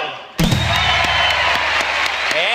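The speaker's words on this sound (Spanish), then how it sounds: "Un aplauso para Arturo" Applause from a talk-show studio audience bursts in abruptly and continues loud and dense, with a music cue running underneath.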